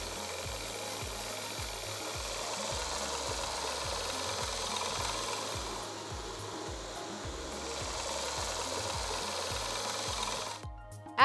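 An electric mixer beats butter, sugar and eggs into sponge cake batter with a constant whirring drone and regular rhythmic knocks of the beaters against the bowl, heard close and steady.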